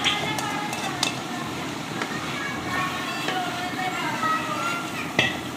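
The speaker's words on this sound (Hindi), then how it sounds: "तो अब हम इसे अच्छे से भूनेंगे 3 से 4 मिनट तक इसमें" Chicken tikka pieces with yogurt are stirred and fried in a karahi pan, a soft steady sizzle broken by occasional sharp clinks of a spoon against the metal, with a person talking over it.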